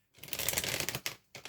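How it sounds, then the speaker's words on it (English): A deck of tarot cards shuffled up close, a dense riffling burst that stops briefly and then starts again, with no voice over it. "Let's have a good old shuffle, shall we?"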